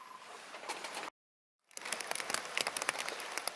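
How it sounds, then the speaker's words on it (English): Rain falling outdoors onto a plastic bag taped over a camera, a steady close patter of many small drops that briefly cuts out, then returns with sharper, louder individual taps. "as you can hear the rain falling"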